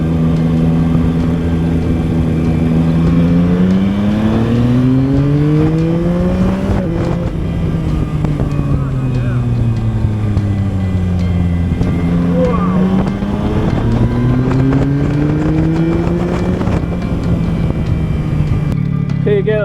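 A Yamaha MT-09 motorcycle engine revs up loudly through rising pitch sweeps on a test ride, dropping between gear changes and climbing again, with heavy wind rush over the microphone.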